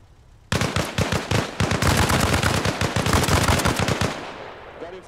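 Rapid sustained burst of PKM machine gun fire in the video game Arma Reforger, loud and close, a dense rattling stream of shots lasting several seconds before cutting off.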